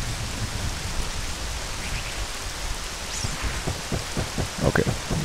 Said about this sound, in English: It's just raining over there.